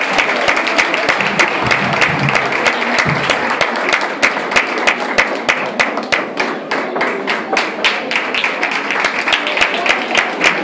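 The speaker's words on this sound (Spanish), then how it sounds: "Un fuerte aplauso." An audience applauds at a gala performance in a hall, dense clapping that settles into rhythmic unison beats, with a few shouts, loud and close for about ten seconds.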